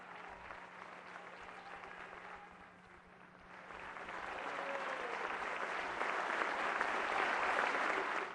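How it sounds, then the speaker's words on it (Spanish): A crowd rises in a standing ovation at a political address, its sustained applause swelling louder and denser after a brief dip, with no talk over it. "Ovación de pie"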